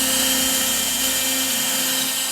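A CNC machine carving a rough practice piece of MDF, giving a steady, loud, high-pitched whine with a constant hum and no breaks.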